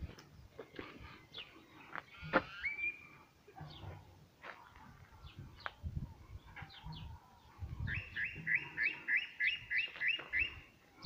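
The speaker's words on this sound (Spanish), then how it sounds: "A ver los pájaros." Small birds chirp and call outdoors beside a creek among large trees and livestock pens, with sharp close tweets scattered throughout and a fast, rhythmic trilling series near the end, over light rustling background noise.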